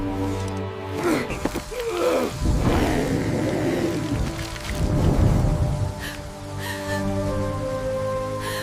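Steady rain falls in an animated fairy-tale scene set in Agrabah, a continuous wash of drizzle with faint rumbles and breathy sounds mixed in, moderately loud and even throughout.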